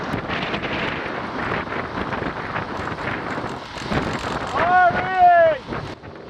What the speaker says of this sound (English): we've got a wicked tailwind